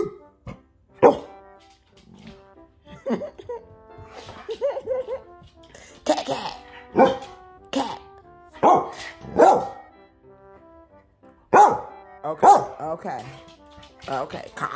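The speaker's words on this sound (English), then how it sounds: "Bark at your dog." Dog barking in a home in sharp, irregular bursts, some single and some doubled, loud and close, with someone talking between the barks.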